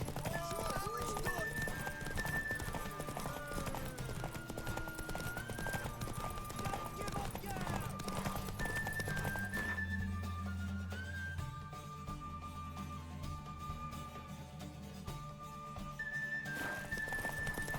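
Hooves clip-clop steadily and a horse neighs in The Witcher 3: Wild Hunt, with in-game music with whistle-like tones and voices of characters talking over the rhythmic hoofbeats throughout.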